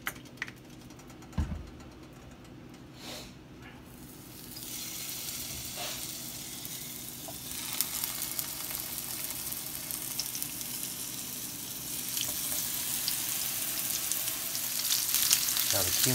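Seasoned lamb hits a hot pan and breaks into a loud, steady sizzle that builds and stays close, with a few knocks at the start and crackling spatter throughout.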